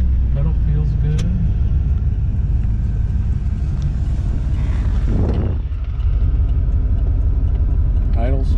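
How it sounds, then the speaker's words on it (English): A 1982 Corvette Collectors Edition engine idles at around 800 RPM, giving a loud, steady, deep rumble that holds close and even for the whole stretch. "Idle strong, right about 800 RPMs."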